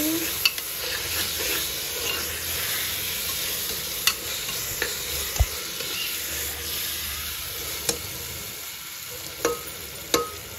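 Chicken biryani being stirred in a pot with garlic and ginger, a steady sizzle and hiss of frying under repeated scraping clicks of the spoon against the pot, fairly close and even throughout.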